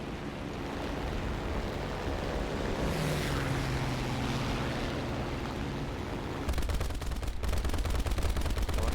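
Machine guns on a CR.42 Falco biplane fire in a War Thunder air battle, a dense continuous rattle over a loud roaring engine drone that swells toward the end, heard alone with no talk.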